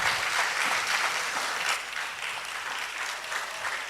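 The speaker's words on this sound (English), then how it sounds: "Let your appreciation be reflected in your applause." An audience in a church hall bursts into sustained applause, a dense wash of clapping that starts strong and eases slightly while continuing throughout.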